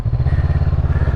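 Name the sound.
Honda CB500X motorcycle riding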